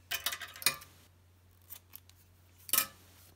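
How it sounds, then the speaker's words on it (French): Scissors snip through yarn after a crocheted mitten is finished: two quick close cuts, then a faint rustle and one more crisp snip, alone in a quiet room with a low steady hum. "On peut couper le fil."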